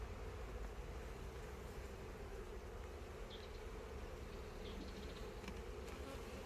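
A crowd of honeybees drones steadily from an opened hive box full of brood, a continuous low buzz with faint wing whirs, heard alone without talk.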